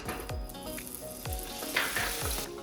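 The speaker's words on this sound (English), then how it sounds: "As the butter is melting, we will add flour and start to roast it" Butter melting for flaxseed ladoo sizzles in a pan with a loud, dense, steady crackle, with a few soft stirring knocks spaced through it.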